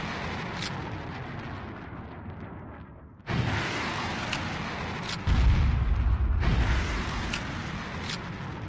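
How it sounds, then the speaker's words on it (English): Rocket launcher explosions in the video game Unturned come as loud, heavy booms, one striking abruptly and another deeper blast following a couple of seconds later, each trailed by rumbling noise and punctuated by sharp clicks. "Rocket launchers go so far."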